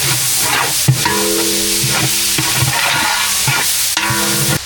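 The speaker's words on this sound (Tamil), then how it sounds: "பச்சை மிளகாய் சேர்த்துக்கலாம் அது கூடவே புதினா மல்லி ரெண்டையும் சேர்த்துக்கலாம் சேர்த்து நல்லா வதக்கி விட்டுக்கலாம்" Onions, green chilies, mint and coriander sauté for chicken biryani, with a loud, continuous sizzle and repeated spatula strokes scraping the pan, no voices.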